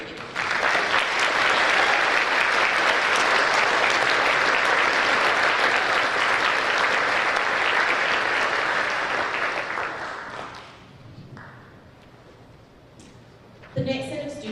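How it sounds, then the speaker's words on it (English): An audience applauds students at a high school career and technical education awards ceremony, steady loud clapping for about ten seconds that fades out, followed by quiet and a brief voice at the end. "We can clap for us if you do."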